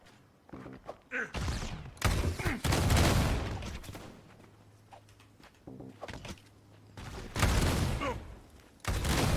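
Gunfire from the competitive shooter SquadBlast during a community tournament match, bursts of loud, rapid shots arriving in several clusters with thuds between them, while a commentator talks over the action.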